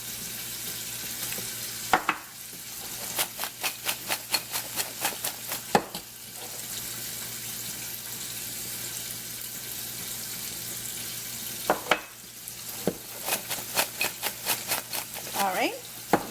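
Hot fries being tossed with seasoning in a bowl, in quick rhythmic runs of rattling scrapes with pauses between them, close and fairly loud, over a steady background hum.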